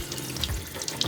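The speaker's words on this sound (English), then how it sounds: "simply place the cooker in the sink and run cold water over it" Cold tap water running from a faucet over a pressure cooker sitting in a kitchen sink, a steady close splashing hiss with small spattering bursts throughout and no speech.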